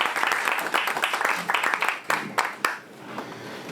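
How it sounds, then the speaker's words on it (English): A small cafe audience claps for performers Andrew and Marian after their set, a short burst of close, uneven clapping that thins into a few scattered claps before dying away. "Big round of applause to Andrew and Marian for their set earlier."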